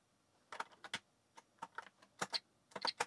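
Keys on a TRS-80 Model 4P computer keyboard are pressed in short irregular bursts during a game, a dozen or so crisp clicks that come close and fairly loud with brief pauses between groups.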